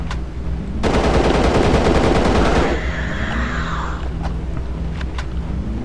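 Sustained automatic gunfire from hip-firing in the survival horror game Christmas Night of Horror, a loud rapid burst lasting about two seconds, followed by lighter scattered shots and faint game noise.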